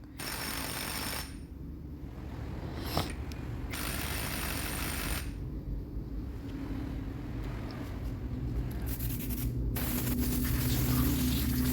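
Bursts of compressed air blast grit off Honda Accord Cielo parts after impact-wrench work, coming as loud broadband hissing blasts separated by short pauses over a steady low workshop hum.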